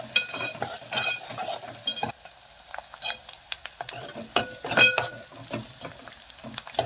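Chopped onions frying and being stirred in a pan over low heat, a spoon scraping and clinking in uneven bursts over a soft, steady sizzle, close by with no talk.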